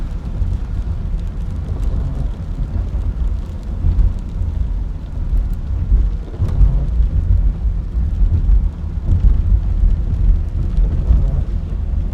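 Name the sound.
rain while driving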